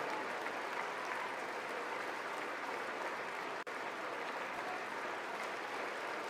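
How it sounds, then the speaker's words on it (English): An audience applauding at the 2026 State of the Union address: a dense, continuous wash of clapping that holds steady the whole time with no talking over it. "it looks like everybody's applauding"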